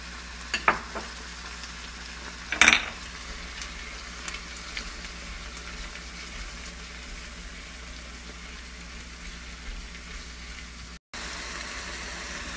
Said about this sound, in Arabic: نحط الحين عليه الطماطم، خليه يطبخ مع الطماطم.